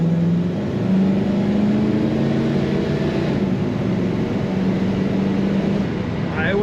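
A 1969 Pontiac Trans Am with an automatic transmission pulls hard, its engine droning loud and steady from inside the cabin with a rising tone and some voice mixed in.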